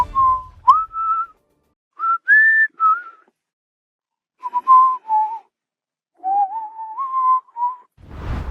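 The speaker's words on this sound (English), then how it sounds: "McCree will also whistle on very rare occasions." McCree, the Overwatch cowboy hero, whistles a short, wandering tune alone in a series of clear, close, pitch-sliding phrases separated by brief pauses.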